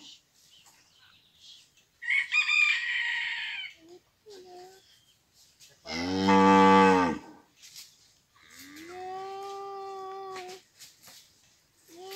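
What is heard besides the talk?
cows and calves mooing in a corral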